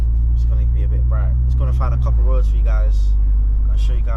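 A Volkswagen MK6 Golf R drives along a road, its steady engine and road noise droning underneath as someone talks throughout; the low hum shifts partway through as the car changes pace.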